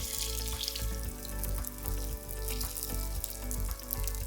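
Peshawari meat kebabs fry in hot oil, one side at a time, giving a continuous close sizzle and crackle with small irregular pops throughout.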